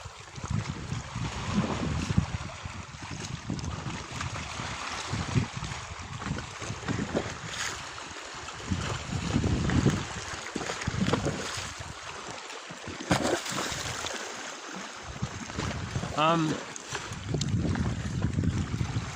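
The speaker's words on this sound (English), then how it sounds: "It's getting a little windy here." Gusty wind blows across the microphone in long, uneven rumbling bursts, loud and close, with brief lulls between them.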